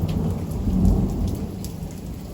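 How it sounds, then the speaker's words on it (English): Steady rain from a thunderstorm, with low rolling thunder swelling midway, seen from a front porch with a wide view; the wash of rain stays loud and continuous throughout, with no voices. "Storm ain't done, but it's starting to get there."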